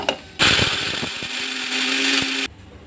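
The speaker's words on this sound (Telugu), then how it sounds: "వేద్దాము, మిక్సీలో వేద్దాం" A kitchen mixie starts up loud and close, whirring steadily for about two seconds while it grinds cumin, roasted gram, cloves, cinnamon, chilli powder and salt into masala, then cuts off abruptly.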